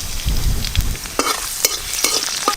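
Chopped garlic fries in hot oil with dry red chilies and five-spice for a leafy-greens dal. Heavy spoon-stirring scrapes come first, then several short crackling sizzle bursts, close and fairly loud.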